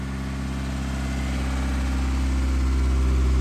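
A Geo Tracker's engine idles steadily just after starting, following fresh spark plugs and timing work, a low continuous rumble that holds even and close throughout with no talk over it.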